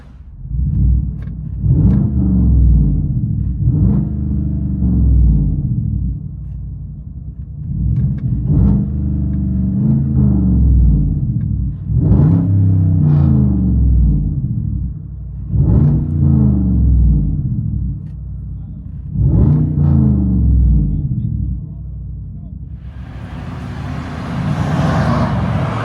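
Inside the cab of a 2014 Chevy Silverado with a 5.3L V8 and true dual straight pipes, the exhaust drones in a low rumble through a series of about six rhythmic revs, with no talking.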